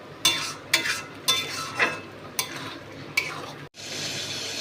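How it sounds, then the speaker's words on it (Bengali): A spatula scrapes and stirs Bombay duck (loitta fish) frying in a pan on high flame, with about six rhythmic scraping strokes over a steady sizzle that swells louder at the end. "এটা লোটে মাছের ঝুড়ি বানাবো, তাই যতক্ষণ না পর্যন্ত এটা একদম শুকিয়ে যাচ্ছে ততক্ষণ হাই ফ্লেমে দিয়ে এটাকে খুব ভালোভাবে নাড়াবো।"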